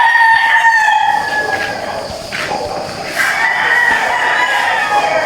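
Several roosters crow at a gamefowl training camp in Batangas, long overlapping calls near and farther off, with scattered clucking from other birds and no talk.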